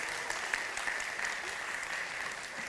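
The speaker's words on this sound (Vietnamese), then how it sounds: "Khán giả vỗ tay ủng hộ em." Steady applause from an audience fills the whole stretch, a dense even clatter of many hands clapping with no pauses.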